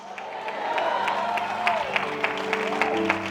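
Church congregation claps and cheers during a sermon, a dense crowd roar with scattered sharp individual claps and voices rising over it, fairly close and sustained.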